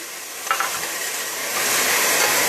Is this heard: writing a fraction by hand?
no